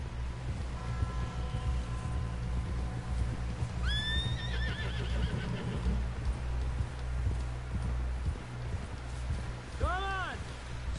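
In Red Dead Redemption 2, horse hooves pound steadily beneath a constant rumble, with a horse whinnying twice, once early and once near the end, amid faint voices.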